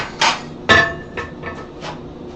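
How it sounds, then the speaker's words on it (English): A big hammer strikes a hot metal bar during forging. Two heavy ringing blows land near the start, followed by three or four lighter, quicker taps, each with a short metallic ring. "that big hammer, I don't mind if I'm going to hit hard, deliberate hits"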